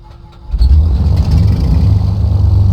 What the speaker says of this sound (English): I'm going to engage the starter.